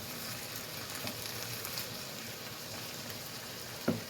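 Chili con carne meat sizzling steadily in a Dutch oven pot as it is stirred, a continuous frying crackle with one brief louder clack near the end, no talking.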